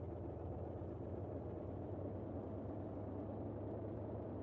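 Steady low drone of a Boeing 247D piston engine in Microsoft Flight Simulator 2020, a faint continuous rumble with no clear rise in revs, heard alone.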